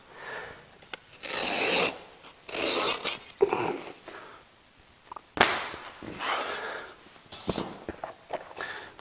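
Utility knife fitted with a brand new blade slicing through carpet for a two-tone seam: repeated close, raspy scraping strokes in bursts, with short pauses and light handling noise between cuts.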